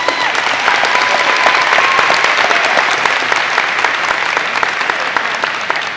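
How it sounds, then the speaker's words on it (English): A large high school audience breaks into loud, sustained applause, with many hands clapping densely and evenly and the sound staying strong throughout several seconds. "Let's give them a round of applause."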